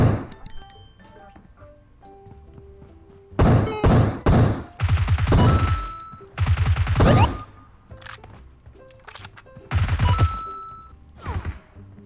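Bursts of rapid gunfire from a shooting video game come in several loud clusters over a musical game soundtrack with ringing tones, separated by quieter gaps.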